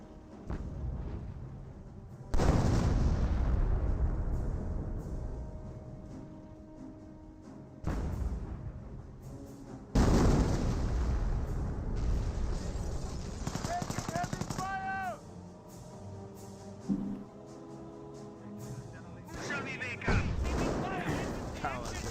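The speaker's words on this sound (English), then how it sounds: "I hear a 7 pounder out in the field as well." Artillery and 7-pounder gun fire in a Company of Heroes battle, several heavy booming blasts spaced seconds apart with rumbling decay, under a rumbling battlefield, with a commentator's voice at points.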